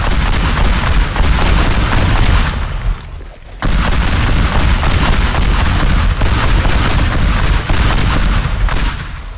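A mansion, the Gordon Woo Villa in the video game Teardown, is blown apart by a continuous barrage of loud, roaring blasts and crumbling debris that briefly drops away partway through before rumbling on.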